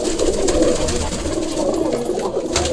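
Trained pigeons coo steadily and close by, a continuous throaty murmuring from several birds that runs throughout, with no voices.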